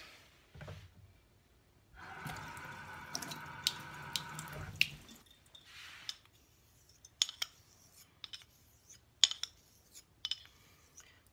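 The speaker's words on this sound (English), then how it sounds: "Let's add some water to this." Water trickles from a tap for a few seconds onto a small Coticule honing stone used for razor sharpening, followed by quiet clicks, taps and light handling sounds in a calm room.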